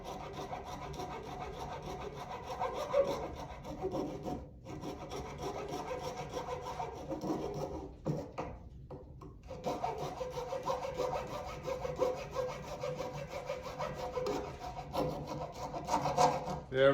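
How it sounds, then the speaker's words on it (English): A hacksaw blade cuts through the shipping ring of a paint can, making a steady rasping saw stroke that runs close and continuous for most of the clip, with brief pauses between passes. "So what I use is just a simple blade from a hacksaw."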